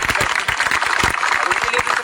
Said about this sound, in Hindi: उनके लिए भी मैं चाहता हूँ एक बार आप सभी लोग तालियां बजाएं।